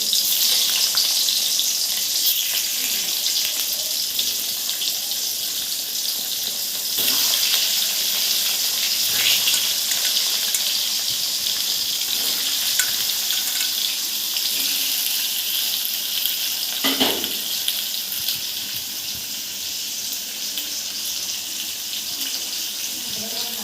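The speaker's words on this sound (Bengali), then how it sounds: "এই সিদ্ধ করা আলুটা এখন ওই তেলে ভেজে নিলাম একটু আলুটা ভেজে নিচ্ছি" Boiled potatoes fry in hot oil with a steady, loud sizzle and hiss that fills the whole stretch, broken now and then by faint clinks of stirring.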